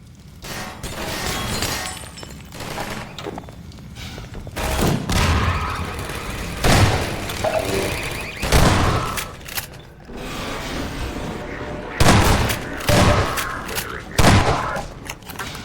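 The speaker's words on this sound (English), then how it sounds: "all video game kitchens must feature a gas explosion" Inside a Half-Life 2 kitchen, a series of loud bursts, booms and shattering crashes hit at irregular intervals, mixed with clattering debris and mechanical noise, with some speech in between.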